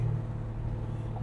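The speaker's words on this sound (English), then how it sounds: "Take a Chevelle for a ride." A 1971 Chevrolet Chevelle cruises along, its engine a low, steady rumbling hum heard from inside the car at moderate volume, with no talking.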